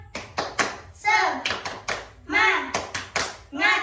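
Second-grade children in a classroom clap together in a quick repeated rhythm, sharp hand claps alternating with group shouting, loud and close.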